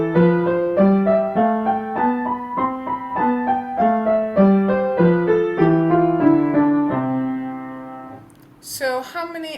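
Piano scales played with the left hand in crotchets and the right hand in quavers, a steady stepwise run of clear, ringing notes that climbs and descends for several seconds, alone and close.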